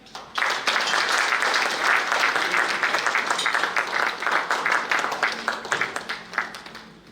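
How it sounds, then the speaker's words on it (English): Audience applause at an HR excellence award ceremony, starting abruptly and swelling into a full, dense round of clapping, then thinning into scattered claps near the end. "Can we clap?"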